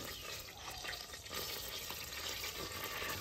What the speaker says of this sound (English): I just got some butter melting right now.